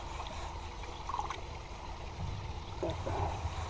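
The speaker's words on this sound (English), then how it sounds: "This is the automatic water feeder" An automatic water feeder trickles and splashes into a muddy koi pond outdoors, a faint continuous watery rush with a few louder gurgles and bubbling bursts.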